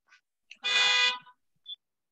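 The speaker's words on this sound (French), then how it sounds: "J'entends des klaxons de voiture." Car horns honking outside during an indoor group exercise class, a couple of short toots followed by one long sustained blast, then a brief final beep, heard at a distance with no talk.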